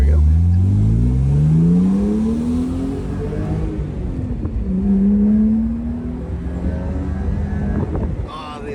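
A 1990s BMW E36 M3 with a Dinan intake, its engine revving and climbing through gears with a strong induction roar, heard from inside the car over wind noise.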